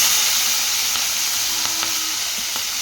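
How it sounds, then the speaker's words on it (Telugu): Tomatoes and onions fry in a pan for paneer curry, with a dense, constant close sizzle and hiss and a few faint stirring clicks, no voices. "ఇప్పుడైతే కొంచెం ఫ్రై చేసుకుందాం వీటిని కూడా"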